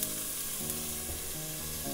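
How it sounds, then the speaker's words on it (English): Onions and garlic sautéing in hot olive oil, a steady close sizzle with faint stirring, continuous and alone throughout, no voices. "I'm gonna add my onions and garlic. And you're gonna saute that for just a couple of minutes"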